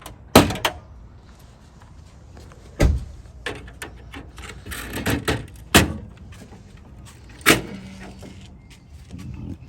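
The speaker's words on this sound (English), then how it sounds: "So first step is to open the hood." Mercedes ML55 AMG (W163 chassis) hood being opened, heard as several sharp latch clicks and thuds spaced across the clip, close and fairly loud against a quiet background.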